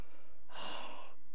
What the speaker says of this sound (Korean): 숨 마시는 소리 하품하듯이